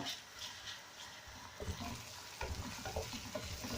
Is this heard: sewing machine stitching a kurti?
no